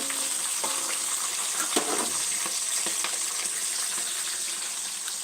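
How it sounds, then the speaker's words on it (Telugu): Spices tempering in hot oil for a raw tamarind chutney and rice dish, a steady close sizzle and crackle with scattered pops and a few soft stirring clinks, no voices. "తాలింపు."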